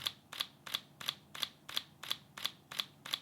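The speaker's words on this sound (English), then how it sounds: "Whereas if you do a slow shutter of maybe 1/5 of a second" A camera shutter set to a slow 1/5-second exposure fires repeatedly, about ten separate clicks at an even, unhurried pace, each a brief double snap, close and quiet with no talking.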